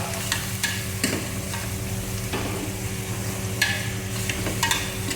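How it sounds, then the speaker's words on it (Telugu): Onions sautéing in a pan keep up a steady sizzle with a low hum beneath it, while several sharp spatula scrapes and taps come through close and clear, with no talking. "మేమైతే వాటిని మంచిగా గోలించుకోవాలి ఇట్లా"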